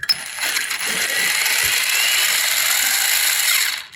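Hosim 2845 1/16-scale brushless 4x4 RC car motor given light throttle while the car sits on a stand: a continuous whirring, gear-laden buzz, close and steady for several seconds.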